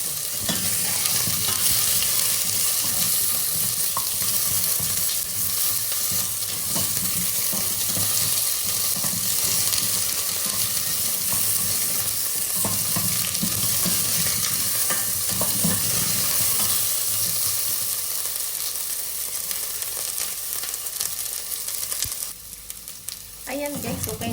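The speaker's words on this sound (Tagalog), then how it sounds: "ipa-fried natin yung patatas. Mas maganda kasi i-fried natin." Potatoes sizzle and crackle steadily in a frying pan while being cooked for oxtail curry, a dense close hiss with occasional stirring scrapes running throughout.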